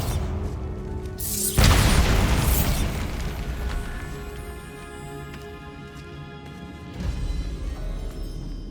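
Video game spell explosions from Hogwarts Legacy, Bombarda blasts, burst with a loud boom at first and then trail off into rumbling debris, followed later by a second, softer impact over steady game ambience.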